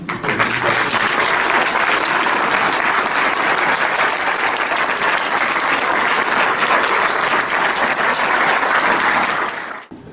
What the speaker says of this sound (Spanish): para recibir nuestro aplauso